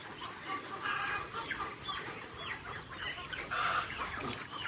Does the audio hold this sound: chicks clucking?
yes